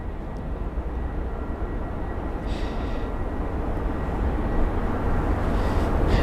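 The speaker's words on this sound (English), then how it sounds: "We have an A321neo up next." Airbus A321neo airliner arriving at London Heathrow, a steady broadband jet roar that slowly swells in loudness as it approaches, heard alone without voices.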